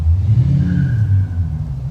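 A motorcycle engine revs briefly nearby, a loud low rumble that rises and falls in short pulses over two seconds.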